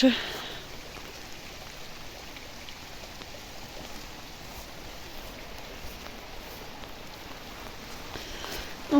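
Light rain still falling after a shower in a vegetable and flower garden, a steady soft patter of drops on leaves and surfaces throughout, fairly close and even, with a brief louder knock at the start and end.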